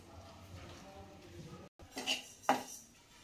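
Roasted sesame seeds are scraped from one metal pot into another, giving soft scraping followed by a few close, sharp metallic clinks of a spoon against the pots.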